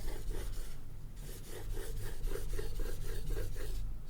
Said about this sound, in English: the stone is much finer and does not produce such a loud scratching noise when scraping against the metal